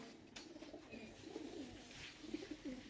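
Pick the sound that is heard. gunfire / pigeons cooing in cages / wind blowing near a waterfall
pigeons cooing in cages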